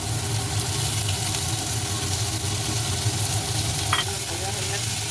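Sliced onions frying in a pan of oil left from frying katla fish make a continuous close sizzle with occasional stirring scrapes over a low steady hum, and nobody speaks.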